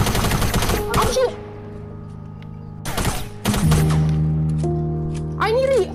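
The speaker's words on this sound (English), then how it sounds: "I'm shooting." Gunfire in a video game: repeated bursts of rapid shots, loud and close, broken by short pauses, with game sounds and a voice talking in between.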